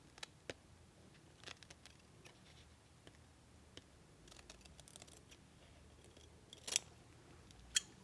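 Scissors trim excess paper during a paper-sewing project, making a few quiet, sharp snips spread across a calm room, with a louder cut near the end.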